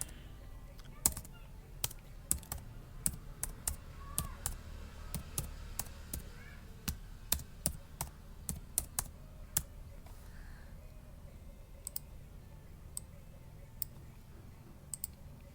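Typing on a computer keyboard while working on Excel cell styles, heard as scattered sharp key clicks over roughly fifteen seconds, with irregular pauses and a soft low background hum.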